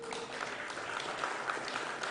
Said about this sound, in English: a huge round of applause for Chunky Pandey and Govinda